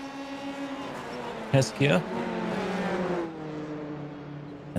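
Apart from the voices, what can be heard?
race cars finishing at Belle Isle in iRacing video game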